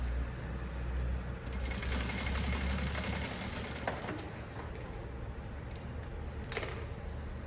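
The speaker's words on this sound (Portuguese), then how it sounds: "Vou fazer aqui uma costura de segurança antes." A sewing machine stitches a backpack lining with a steady, close mechanical whir and hum throughout, with a few small clicks and knocks along the way.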